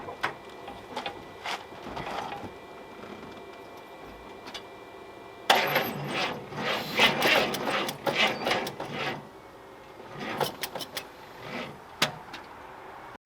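A car engine on a cold day with a weak battery cranks in uneven bursts, slow at first, then a longer louder stretch of grinding cranking that fades to a few scattered clicks, with no speech.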